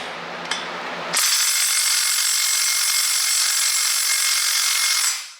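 A Hitachi 18 volt power tool works on a bolt on a Subaru EJ25 engine, starting after a click with a sudden loud, steady high whir that holds for about four seconds before winding down.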